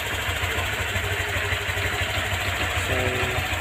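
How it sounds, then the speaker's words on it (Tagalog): A Honda Click v.2 scooter with 9,600 on the odometer idles close up, a steady low chugging putter with a faint mechanical clatter running evenly throughout, no voices. "Pakinggan natin yung tunog ng makina natin."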